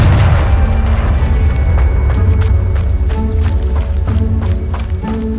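A fiery Confringo spell explodes in the Hogwarts Legacy video game: a loud, close booming blast followed by sustained rumbling and a series of dull thuds.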